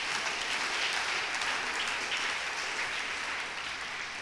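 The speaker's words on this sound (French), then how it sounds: "On peut applaudir tous ceux qui ont intervenu ce matin." A church congregation applauds during a Sunday service, an even, sustained patter of many hands clapping for about four seconds, moderately distant and fading slightly at the end.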